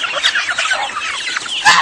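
Fowl squabble in a backyard, giving sharp, agitated clucks and squawks in quick bursts, close and loud, with a louder cry near the end.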